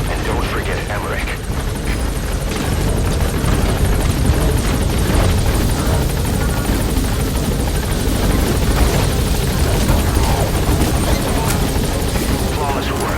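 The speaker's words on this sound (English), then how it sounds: "Alright, the chopper's touching down." A helicopter touching down in Metal Gear Solid V, a loud, continuous rotor roar with heavy low thumping that fills the whole clip, with voices talking over it.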